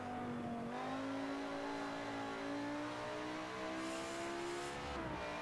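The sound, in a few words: American truck engine revving in a racing video game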